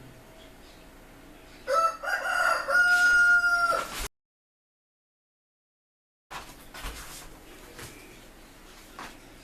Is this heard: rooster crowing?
yes